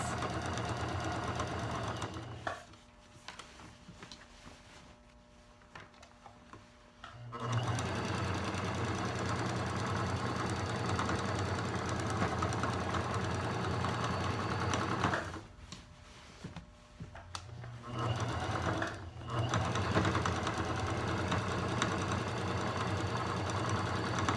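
A sewing machine stitches a stretched elastic waistband in steady, whirring runs, stopping briefly twice before resuming, close by with no talking.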